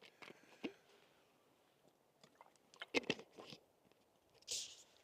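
Small mandarins being eaten up close outdoors on a hike, with quiet wet chewing and several soft bites and squelches spread irregularly over a few seconds, ending in a brief slurp-like burst.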